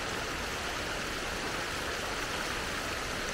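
Steady, even hiss of a distant waterfall at Lake Wynoochie, a soft continuous broadband rush with no breaks and no voices.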